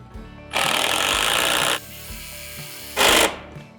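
A lag spinner driving lag bolts during a renovation of an abandoned house, a loud close power-tool whir that runs about a second, drops to a low idle rumble, then bursts again briefly, no talking.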